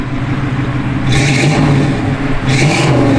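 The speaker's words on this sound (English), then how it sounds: "Good sounding dual exhaust system." A 1967 Chevrolet Nova engine idles with a deep, throaty dual exhaust rumble, rising briefly in two short revs.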